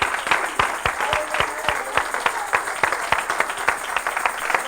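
A church congregation at a Spanish-language service claps in a steady rhythmic beat, sharp regular claps repeating every fraction of a second over a soft background of voices and room noise.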